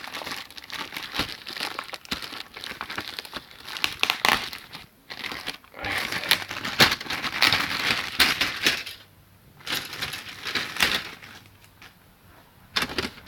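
Plastic bag holding Revell 1/72 Swordfish model kit parts crinkles and rustles steadily, close to the listener, with a few sharper crackles and brief quieter pauses in between.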